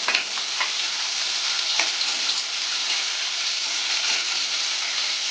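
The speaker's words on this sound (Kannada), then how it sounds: "ಚೆನ್ನಾಗಿ ಈರುಳ್ಳಿನ ಫ್ರೈ ಮಾಡೋಣ." Onion and half a large capsicum frying in a pan give a steady, close, rain-like sizzle with occasional brighter crackles, constant throughout and with no voices.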